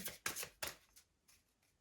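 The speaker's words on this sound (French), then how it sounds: "on va tirer quelques cartes du Light Seers" Oracle cards being shuffled before a draw, three sharp riffling bursts close up followed by softer, fainter shuffles trailing off, with no one speaking.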